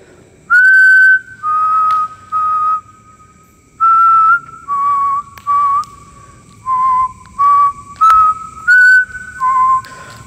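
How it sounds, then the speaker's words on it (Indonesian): A person whistles a simple melody in short, separated phrases, loud and close, with faint background noise between the notes and no talking. "Gue coba pakai siulan dulu guys."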